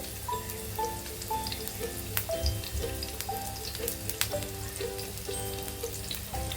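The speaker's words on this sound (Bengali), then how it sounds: "তেলটা গরম হয়েছে এখন পেঁয়াজটা এভাবে বসিয়ে দেবো" Onion slices sizzle steadily in hot oil in a pan for a Bengali onion egg poach, a dense crackling hiss with scattered pops, close and continuous with no talking.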